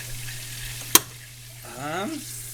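Pheasant back mushrooms and onions sizzling in a pan with a soft steady fry, broken by one sharp clack of a utensil and then a voice talking over the cooking.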